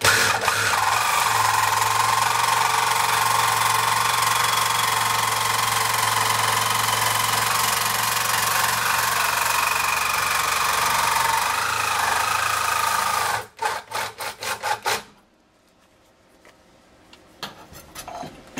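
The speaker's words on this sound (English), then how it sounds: "That's Sawzall control right there." Reciprocating saw cutting during an aluminum radiator install on a 1972 Pontiac Firebird, a steady loud buzzing run for about thirteen seconds that breaks into short stuttering bursts, then stops into near silence.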